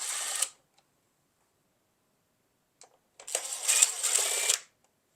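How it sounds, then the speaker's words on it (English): Screws being worked out of a Roomba robot vacuum's underside during a repair, giving a brief dry rasp, then a pause and a longer scratchy mechanical rattle, close and fairly quiet with no talk. "And then there's some big screws you take out."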